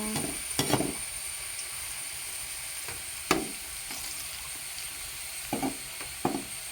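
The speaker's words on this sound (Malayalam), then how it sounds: "അപ്പൊ നമ്മുടെ സബോള ഫ്രൈ ആയിട്ട് വന്നുകൊണ്ടിരിക്കുകയാണ്" Onions frying in a pan on a gas stove, a soft continuous sizzle broken by a few sharp clinks and scrapes of stirring, close and alone without voices.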